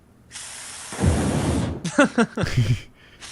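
A broad hiss from an aerosol gas can bursts out for about a second, followed by a few short clicking, rattling knocks close by.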